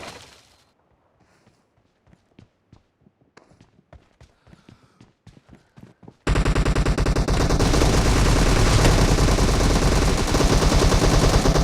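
PUBG gunfire from a Kar98k bolt-action rifle and M762 assault rifle: sparse sharp single shots and distant pops at first, then an abrupt switch to loud, continuous rapid automatic fire that dominates to the end.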